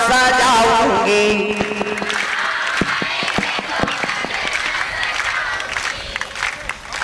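A devotional song crowd claps in rhythm along with the music, sharp regular claps rising under a sung melody, then a broad wash of applause and crowd noise filling the space.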